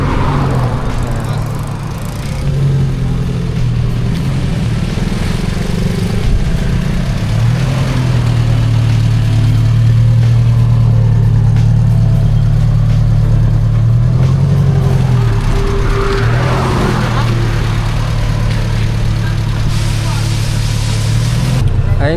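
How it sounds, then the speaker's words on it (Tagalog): An FPJ owner-type jeep engine runs at a steady, throaty idle through its exhaust, with brief rises in pitch suggesting light revving. The rumble is continuous and fairly loud throughout. "So ito yung tunog na ating tambucho."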